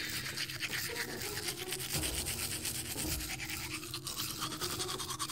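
Rapid scrubbing of a toothbrush in a toothbrushing minigame of the Deponia adventure video game, a fast continuous bristly rhythm filling the whole stretch at moderate volume.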